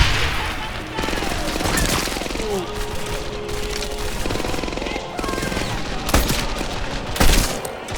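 Rapid anti-aircraft flak fire in the World War II shooter Medal of Honor Airborne, bursts of shots and booms rolling over dense battle noise, loud and close. Voices mix in throughout.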